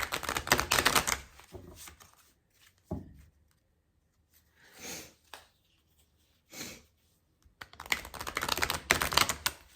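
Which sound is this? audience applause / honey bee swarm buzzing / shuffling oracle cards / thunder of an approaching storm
shuffling oracle cards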